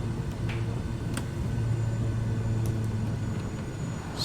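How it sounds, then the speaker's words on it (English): Thrust reversers roaring on an Airbus A319 landing in a flight simulator game, a steady, loud low engine rumble that holds without a break and stays constant throughout. "See if the reversers are working."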